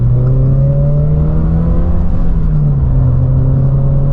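A Subaru BRZ engine idles steadily with a low, even hum and faint whir, holding a constant pitch throughout.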